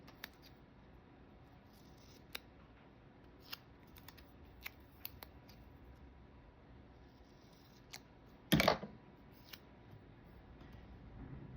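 Scissors trim a paper journaling sticker: a few faint ticks, then one loud, crunchy cutting burst near the end, close up in a quiet room.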